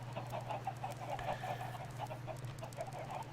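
Chickens in the Minecraft video game cluck repeatedly in a soft, rhythmic stream over a steady low hum, fairly faint and with no talk.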